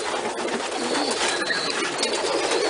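Pigeons coo continuously inside a loft, a dense, close chorus of soft calls layered over a steady hiss of wingbeats and movement, with no talk.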